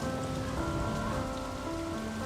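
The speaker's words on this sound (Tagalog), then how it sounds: "Ulan lang yan, hindi yan nakakamatay." Rain falls steadily outdoors in a continuous soft hiss of drops, even and unbroken for the whole stretch, with no one talking.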